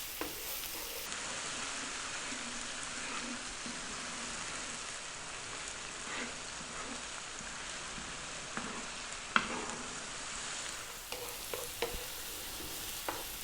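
Onions and garlic sizzling steadily in a pan over lively, above-medium heat, a continuous bright frying hiss with occasional soft pops and stirring clicks, no voices.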